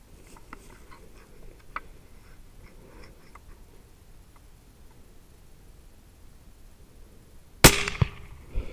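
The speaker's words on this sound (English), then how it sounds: "We just shot a Gemsbok. It's a South African Oryx." A single sharp, loud gunshot fired while hunting gemsbok, a South African oryx, in the bushveld, cracking out of quiet outdoor ambience with a brief echoing tail.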